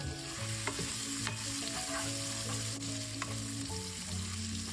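Corned beef browning in a hot pan for Filipino ginisang corned beef, with a steady loud sizzle and spatula stirring scrapes throughout, plus background music.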